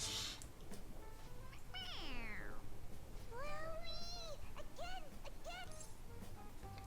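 A cat toy in the Persona 5 Royal video game meows when pressed on its head, giving one long drawn-out meow and then a run of shorter meows over quiet game background noise.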